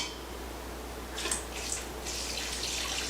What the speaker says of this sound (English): I'm going to pour 4 cups of liquid. I'm using beer.